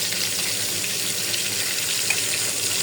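Tap water runs in a continuous steady splash close by while hilsa fish is washed in a sink.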